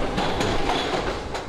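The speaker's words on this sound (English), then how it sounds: "You can get in the back car on the one train really easily" A New York 1 subway train runs steadily with continuous rumbling and clickety-clack of wheels on rails, heard from inside the car, with faint periodic clanks.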